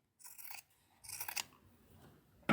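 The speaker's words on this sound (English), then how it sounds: "So from the marking 90 degrees, I can cut off this spare fabric" Scissors snipping off spare fabric at a hemmed corner: two short close bursts of cutting, a quiet gap between them and a sharp click at the end, with no talking.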